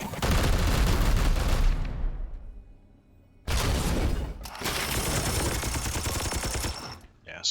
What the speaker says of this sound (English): Yeah, support fire there did nothing.